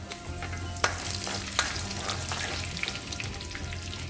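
Urad dal and curry leaves frying in hot oil while being stirred, a steady bright sizzle with occasional crackles and pops, close and continuous.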